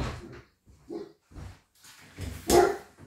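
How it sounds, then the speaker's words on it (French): A large dog barks several times in separated bursts, loud and close, with a deep voice and a final louder bark. "Excusez-moi pour mon chien, je suis désolée."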